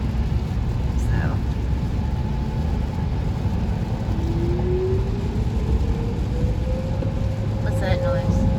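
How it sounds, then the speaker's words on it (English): Tornado warning siren heard from inside a moving car at night during a Mississippi storm chase, a faint rising and sustained wail under heavy road and engine rumble. "Oh, that's the siren."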